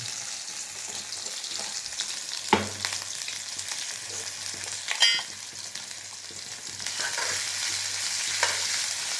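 Crushed ginger and garlic sauté in sesame oil with fennel seeds, giving a continuous soft sizzle punctuated by a few louder spatula scrapes and stirs against the pan, heard up close without speech.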